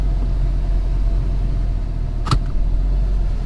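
An F-body SS car with a newly replaced steering column drives along, producing a steady loud engine and road rumble with one short sharp knock partway through.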